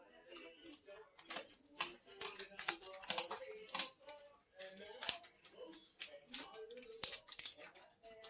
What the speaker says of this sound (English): I'll clip the legs off at that first joint, turn the bird over, come in at the vent, and clip up each side of the spine